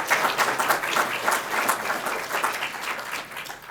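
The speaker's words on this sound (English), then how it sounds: "Could we give him another round of applause?" Conference audience applauding a panelist at a 2021 Virginia event: a dense, loud burst of many hands clapping together, steady throughout, with no talk over it.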